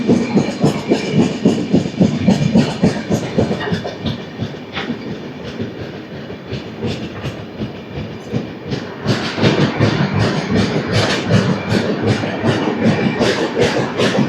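Godavari Express (12728) running at about 125 km/h toward Tadepalligudem, with a steady loud rumble and rapid rhythmic clickety-clack of wheels over rail joints throughout, growing denser and brighter in the second half.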